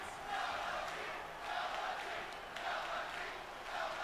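A wrestling arena crowd in WWE 2K20 roars and chants in rolling waves, a distant, faint swell of massed voices rising and falling under the game's ambience.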